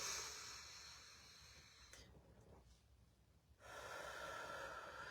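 Sharp breaths drawn in through the nose, heard as hissing snorts that come and go with a quieter pause in the middle, close to the microphone and without speech.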